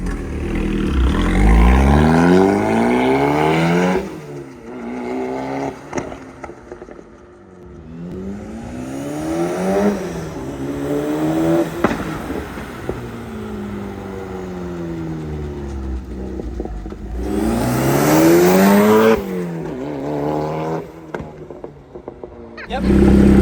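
A tuned car engine revving hard in repeated rising and falling sweeps, with loud exhaust pops and backfire bursts between revs, close by, and brief voices in the background.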